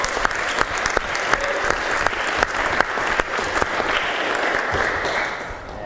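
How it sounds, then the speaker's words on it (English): A round of applause from a debating society audience, a steady dense clapping with a few sharper claps standing out, filling the whole stretch at moderate level and tapering slightly at the end. "But if you reject them, we'll give you a round of applause."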